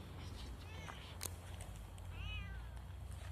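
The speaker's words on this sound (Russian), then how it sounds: "Кошка." Cat meowing outdoors near a campfire, two short rising meows close by against a steady low background rumble.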